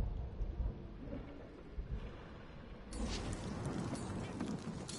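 A thunderstorm in the Guardians of the Galaxy video game: low rolling rumbles with rain-like hiss, growing brighter and louder halfway through as a broadband wash of storm noise sets in, no clear talk.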